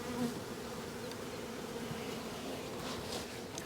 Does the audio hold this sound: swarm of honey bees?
yes